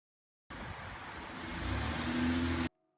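A car pulls away from rest, its engine note rising steadily and growing louder over about two seconds before cutting off abruptly, with no talk over it.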